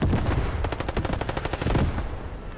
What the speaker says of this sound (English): Coax machine gun from the Sherman.